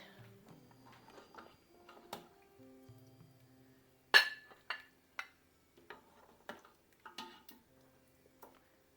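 Spoon and ladle clinks against a pot while serving Anglo-Indian trotter (paya) curry, a few sharp metallic taps spaced through an otherwise quiet kitchen, no talking.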